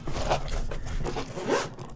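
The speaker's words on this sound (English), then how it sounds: "Ooh, the zipper is just butter smooth too." A smooth zipper is drawn on the carrying case of an underwater camera for ice fishing, one close continuous rasping pull lasting about two seconds.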